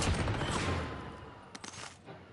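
Gunfire in Warzone: a loud burst of shots that fades away, followed by a few sharp, quieter cracks near the end.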